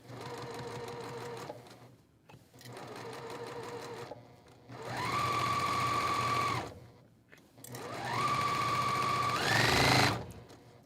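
A sewing machine stitches quilt block pieces in three separate bursts, the motor whirring steadily through each run before pausing, with the final burst slightly louder.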